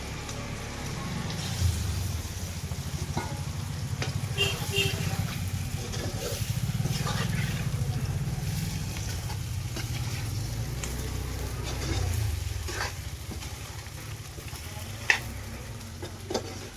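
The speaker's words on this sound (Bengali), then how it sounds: "তারপর কড়াইটা গরম হয়ে গেলে তার মধ্যে দিয়ে দিলাম তেজপাতা" Bay leaves dropped into hot mustard oil in a wok sizzle and crackle steadily for a long stretch, a low rumble of frying with occasional sharp spits and stirring clinks, no talk over it.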